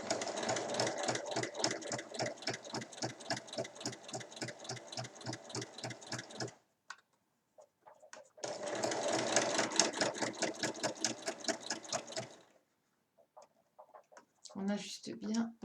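A sewing machine stitches the fabric handle of an Easter basket in two close, rapid bursts of rhythmic needle clatter, each several seconds long with a quiet pause between them, followed by a brief voice at the end.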